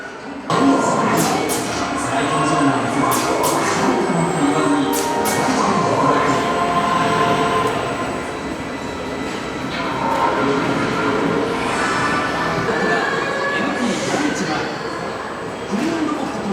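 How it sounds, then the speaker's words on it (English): A train runs steadily beneath the cabin and carries a group of kids, with a rumbling, rattling ride that stays close and fairly loud for the whole stretch while people talk over it. "Some kids are going to drive the train."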